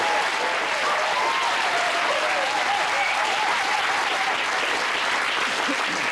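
Studio audience on the ITV panel show Just A Minute, 1994, claps in a steady, loud, continuous roar of applause lasting several seconds with no voices over it.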